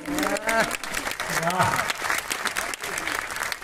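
Audience applause at a Hindi poetry recital, a steady sustained clapping from a crowd that continues throughout, mixed with a speaking voice over the top.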